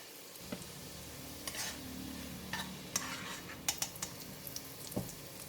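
Garlic fries in oil in a pan while a utensil stirs and scrapes, giving a soft steady sizzle broken by several sharp clinks and scrapes against the pan, close by, with no talk.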